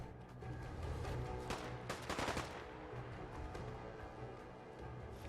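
Rapid automatic gunfire in Fallout 4, a dense rattle of shots with a louder cluster in the middle, fairly quiet overall.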